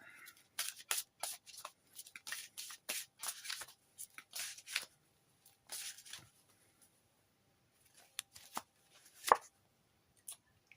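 A deck of oracle cards is shuffled close up in a quiet room, with quick, crisp bursts of riffling and flicking that come in clusters and then thin out into a few sparse taps.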